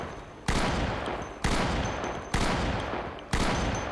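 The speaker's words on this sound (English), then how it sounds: "Now we gotta shoot these things up." Four heavy volleys of gunfire from Project Zomboid ring out at roughly one-second intervals, each a sharp loud burst with a decaying tail, with no talk over them.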